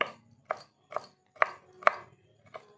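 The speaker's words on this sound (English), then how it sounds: "Chop the garlic to be small piece like this" A knife chops garlic on a cutting board in six sharp, evenly spaced strokes, each a distinct close thud with short silences between, no voices present.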